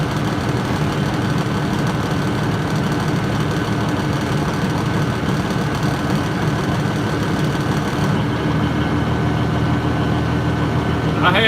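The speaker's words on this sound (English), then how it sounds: "I didn't know how the sound would be with the engine running, fan running." A truck engine fitted with a small 290 cam idles steadily and close in a shop, a continuous low rumble with a running fan, holding even for the whole stretch before easing slightly near the end.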